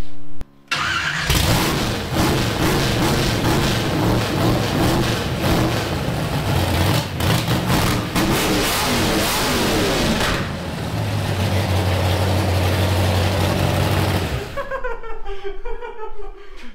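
A 550 hp engine fires up for the first time with a dual ignition setup, cranking briefly then catching into a loud, rough idle with repeated throttle revs, close and overwhelming, before cutting off abruptly.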